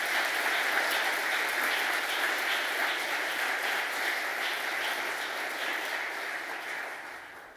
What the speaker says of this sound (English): Let's applaud them very heartily.